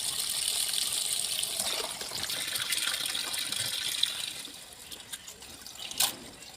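Water runs and splashes steadily as large prawns are rinsed, easing off toward the end with a brief splash near the finish.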